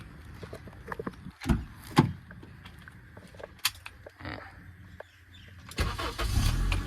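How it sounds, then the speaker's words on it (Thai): A Honda Civic Dimension 1.7 automatic engine cranks and catches after a few clicks and thumps, then settles into a steady, close idle rumble. "เดี๋ยวพาฟังเสียงห้องเครื่องกันนะครับ"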